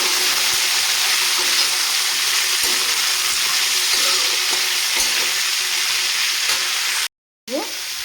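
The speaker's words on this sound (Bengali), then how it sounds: "আর দিয়ে দিব কেটে রাখা বিট আর গাজর একটু নাড়িয়ে করে নেব" Chopped beetroot and carrot frying and being stirred in hot oil with cumin seeds, a steady loud sizzle with scraping strokes throughout, cut off by a brief silent gap near the end before the sizzle resumes.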